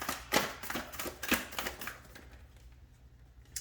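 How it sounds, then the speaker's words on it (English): A deck of cards is shuffled by hand, giving several quick crisp riffling bursts close by over about two seconds, followed by quiet handling. "This is kind of a wonky shuffle."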